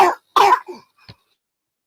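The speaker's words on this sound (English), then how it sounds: "that's a bad cough" A single harsh cough, close and loud, followed by a short throat-clearing rasp and a faint catch of breath, then quiet.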